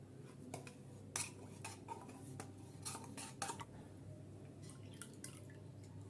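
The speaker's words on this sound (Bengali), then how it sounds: "এখানে দুধ আর মিঠাই মেটটা দিয়ে আমি ভালো করে নেড়ে মিশিয়ে নিলাম" Milk and condensed milk stirred together in a wok for lychee payesh, giving faint, scattered metallic clinks and taps of a utensil against the pan, with no talking.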